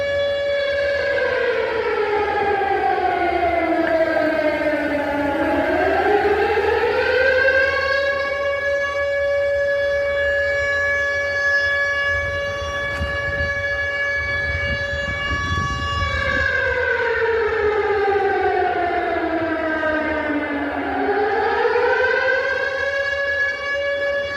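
Civil defense air raid siren outside Odesa city hall, a loud wailing tone that rises, holds steady, falls and rises again in long slow cycles, continuous and alone.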